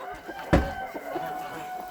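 Chickens on a muddy, marshy farmyard give a single loud cluck-like call, close by, followed by faint fowl chatter.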